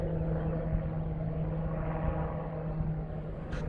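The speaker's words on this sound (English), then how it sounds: "I don't think it's a military helicopter." Helicopter flying high overhead, a steady droning rumble with a constant low tone that holds at even loudness throughout.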